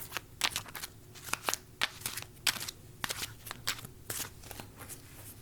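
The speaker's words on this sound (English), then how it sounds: "Okay, so I just cut the deck." A deck of Mystic Monday tarot cards being shuffled and cut by hand, close and quiet: a steady run of crisp riffles and soft slaps of card on card, with no talking.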